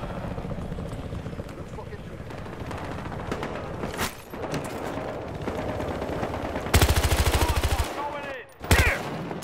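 Battlefield Hardline gameplay with scattered gunfire, then a loud sustained burst of automatic fire and a final sharp blast near the end, over a busy game background with players talking.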